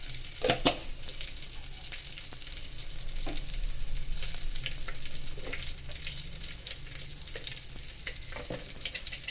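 Cumin seeds sizzle in hot oil with a steady, close frying crackle, broken by a few sharp pops and utensil clinks.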